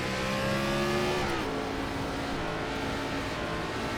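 NASCAR Gen 4 race cars in iRacing at Kern County accelerate on cold tires, a steady engine drone rising in pitch through the gears with another car's note layered in, loud and continuous without any voices.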